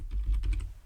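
Quick, soft keystrokes on a computer keyboard, a short close run of taps with no voices.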